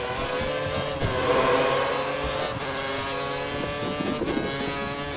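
Formula 1 car engines racing in the video game F1 2013 at Japan with a Sauber, a loud continuous high-pitched engine whine with shifting pitch, steady and close throughout.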